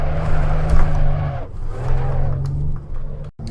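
Maserati Levante twin-turbo V6 SUV driven in Assetto Corsa, engine droning and rising through revs with a gear change midway, loud and close.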